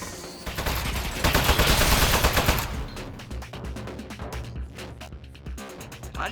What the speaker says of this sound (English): Oh, jeez, it's got a gun! It's an ambush!